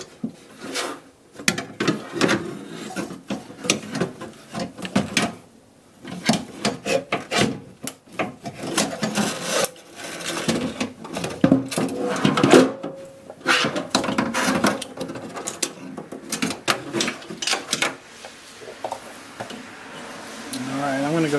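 A power window regulator assembly is worked out of the rear door of a 2001 Dodge Dakota Quad Cab, giving close, irregular scraping, rubbing and knocking of metal against the door panel. Bursts come and go for about twenty seconds, with occasional quiet gaps.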